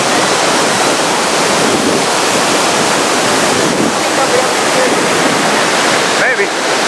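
Loud, steady roar of the thundering water at Niagara Falls, a dense continuous rush filling the whole stretch with no pauses, heard close up.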